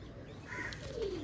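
Collector's pigeons, including Giribaz pigeons, give a single soft, low coo, brief and fairly faint against a steady background murmur.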